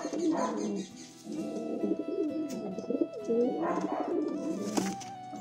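Several pet pigeons coo continuously and close by in soft, rolling, overlapping calls that rise and fall in waves.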